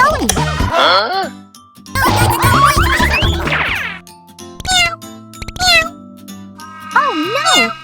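A cat meows several times in drawn-out, wavering cries, with tinkling jingles and a springy boing between them, loud and close.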